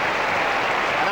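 A football crowd of about 40,000 at a 1980 Port Adelaide semi-final applauds a goal by Tim Evans, a dense, steady roar of clapping and cheering that fills the stretch, with commentary over it.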